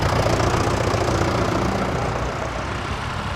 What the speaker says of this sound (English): the rattle of diesel engine remains there